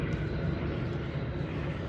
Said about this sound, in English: Here, the airplane.